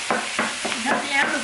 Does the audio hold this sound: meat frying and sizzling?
yes